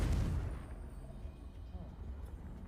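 Confringo blasting spell in Hogwarts Legacy, a loud explosive boom at the start that rumbles and fades into a low, noisy tail.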